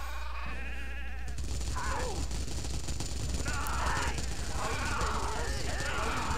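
Sheep bleat several times in an Xbox demo video game, set against dense, steady game noise that may include rapid gunfire.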